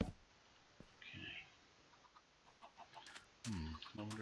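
Chickens clucking in the Minecraft video game, a few short, quiet game-audio clucks spaced apart with faint background sounds in between.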